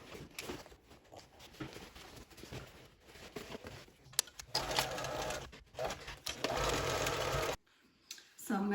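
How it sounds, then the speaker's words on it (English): A home sewing machine stitching a 3/8 inch seam through recycled denim, a steady close motor whir with rapid needle chatter, starting and stopping, and picking up louder toward the end before cutting out briefly. "Now I will go to the sewing machine and sew our 3/8 of an inch seam"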